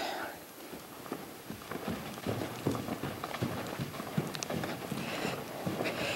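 A horse trotting at liberty around a round pen, with a steady, moderately close clip-clop of hooves on soft ground and a trainer's voice speaking intermittently over the hoofbeats.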